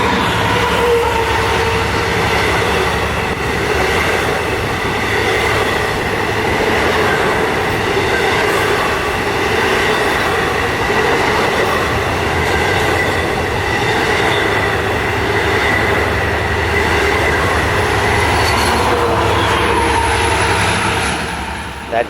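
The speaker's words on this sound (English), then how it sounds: "That train you just saw was 6005 from Montauk to Jamaica passing through Baldwin, with DM30AC 521 trailing" LIRR train 6005 from Montauk to Jamaica passes Baldwin station with DM30AC locomotive 521 trailing, a loud, close, continuous roar of cars rolling by with faint wheel squeal toward the end.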